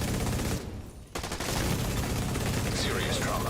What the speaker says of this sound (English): That's some bad shooting.